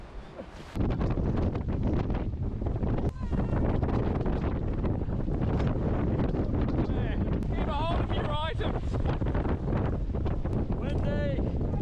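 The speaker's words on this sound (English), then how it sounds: "It's so windy." Strong wind buffets the microphone in a constant loud roar on a hunting outing, with faint bird chirps and rustling underneath; no one speaks.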